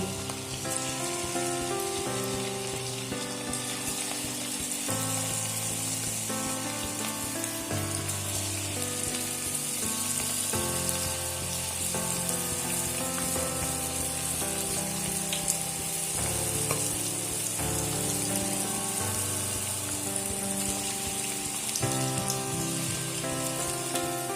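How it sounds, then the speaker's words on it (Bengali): Chicken pakoras deep-fry in hot oil with a constant crackling hiss that carries on unbroken, partly buried under steady background music. "বাকি পকোড়াগুলো আমি এইভাবে ভেজে নেব"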